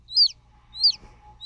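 Two clear, high chirps from a hatching chick in an incubator, about half a second apart, close by over a faint low hum, a third chirp starting at the end.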